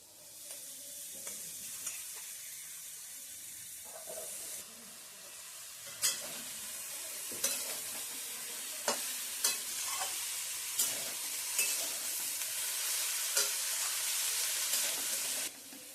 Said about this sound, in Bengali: আলু বেগুন দিয়ে ফুলটা একটু নাড়িয়ে নিয়েছি